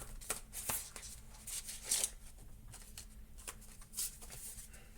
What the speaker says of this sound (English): So let me shuffle this deck here and pull a card out for you.